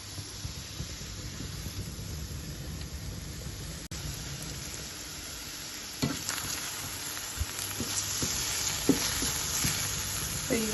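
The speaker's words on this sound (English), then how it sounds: "So you're gonna constantly stir." Mushrooms and carrot strips fry in a pan with a steady, dense sizzle while a utensil stirs them, adding scrapes and taps that grow more frequent toward the end; close, with no speech.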